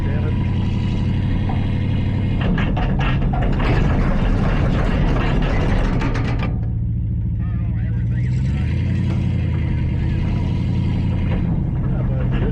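A 1949 Ferguson tractor engine runs steadily throughout, a low rumbling drone with a busier, louder stretch early on before settling into a smoother idle, while people talk over it.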